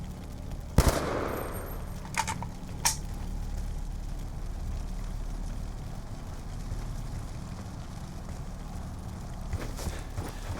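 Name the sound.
gunfire in the video game Call of Duty Black Ops 2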